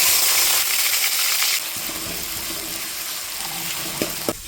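Onion, chili and tomato sizzling in a hot pan, a steady hiss of frying with occasional clinks of a utensil against the pan near the end.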